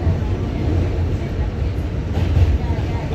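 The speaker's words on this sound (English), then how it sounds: "We're on the train." Subway train crossing the Manhattan Bridge in New York, a loud steady rumble and low roar that swells slightly toward the end, with no voices.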